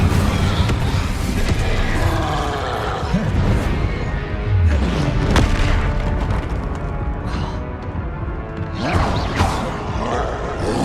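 Incendio fire spell blasts in Hogwarts Legacy combat, loud booming bursts and crashing impacts landing one after another in a dense, continuous fight mix, with a voice shouting spell names throughout.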